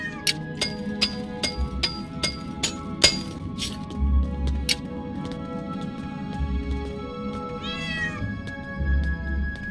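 A striped cat in the video game Portal Knights meows among bright glassy clinks and chiming game tones, with a rising warble near the end.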